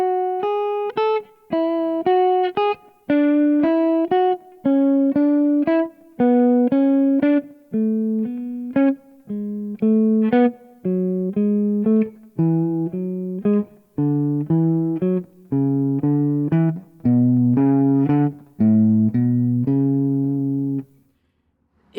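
Clean guitar runs a scale downward in rising three-note groups, a steady, evenly picked pattern with brief pauses between phrases, played solo and close.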